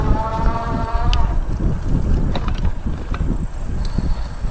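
Ariel Rider Kepler e-bike rolls over gravel, tires crunching and rattling with wind noise, a brief motor whine at the start, and scattered clicks and knocks from the bike, close.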